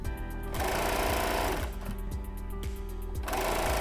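Serger stitching binding onto a quilt, a rapid mechanical whirring chatter running in bursts that pause and restart, close and steady at each run.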